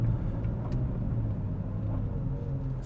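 Audi R8 V10 under way with an automatic gearbox, heard from inside as a steady low engine and road rumble, continuous and moderately loud with no talk.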